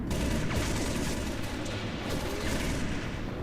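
Sustained video game gunfire and explosions from Halo: Reach fill the whole stretch, dense and loud, with several weapons firing at once.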